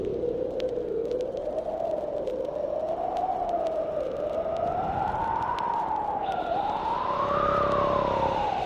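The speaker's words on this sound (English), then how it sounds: "Suddenly, the wind blows." Howling wind from a Halloween sound-effects record, a continuous wavering whine that rises and falls in pitch for several seconds, loud and unbroken, with no voices.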